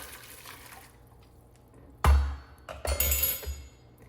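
Boiled water is poured onto salt in a bowl for bread dough, a sudden splashy gush followed by a second, longer pour that trickles off, close and moderately loud with no talking.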